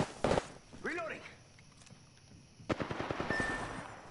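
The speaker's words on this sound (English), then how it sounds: "They're shooting at me." Gunfire from the Apex Legends video game crackles in quick bursts, close and sharp, with a short pause between volleys and a voice talking over part of it.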